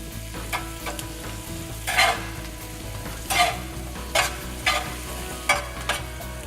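Eight ounces of locally grown Texas baby portobello mushrooms fry in a pan with onions, giving a steady soft sizzle broken by several sharp bursts of stirring and scraping, close by and with no talk.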